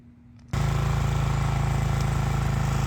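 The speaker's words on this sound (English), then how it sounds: "I'm just gonna pass the mower" A lawn mower working a Florida yard starts up abruptly after about half a second of quiet and then runs loud and steady, with a constant engine drone to the end.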